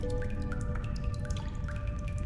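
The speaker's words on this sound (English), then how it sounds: "Oh yeah, hot water running in through that pipe." Water drips from a pipe in a point-and-click detective game, a quick series of bright, separate plinks falling at an irregular pace over a low tonal hum.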